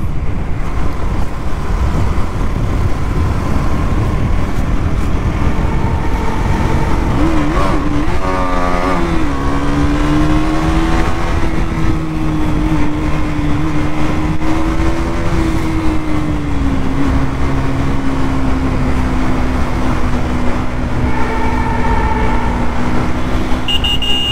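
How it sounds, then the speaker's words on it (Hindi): Motorbike ridden solo through a long tunnel near Shaitan Nala, Kashmir, its engine droning loudly and steadily throughout with rising and falling pitch as it accelerates, the roar filling the enclosed space with no talk. "टनल में बाइक चलाने का अलग ही मजा आ रहा है"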